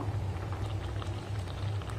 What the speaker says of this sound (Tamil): பாருங்க, குழம்பு கொதிச்சு நல்லா ரெடி ஆயிட்டு இருக்கு.